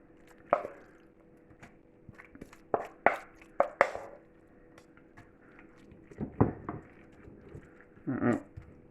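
Tomatoes being chopped with a knife on a board while making a Sardinian savory bread pudding: a handful of sharp, irregular knife strikes spread across the clip, close and fairly crisp, with quiet pauses between them.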